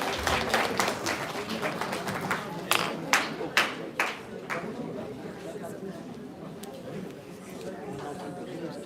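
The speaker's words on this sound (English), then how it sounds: "Give a round of applause, everyone." A seated audience at a binocular vision workshop applauds a felicitation, with dense clapping that thins into a few sharp, scattered claps before fading under murmured chatter.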